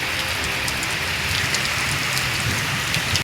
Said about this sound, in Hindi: ये देखो बारिश